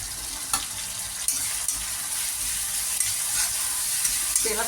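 Sabudana khichadi ingredients frying in hot oil in a pan: a steady, close sizzle with occasional sharp clicks and scrapes of stirring, and no talking.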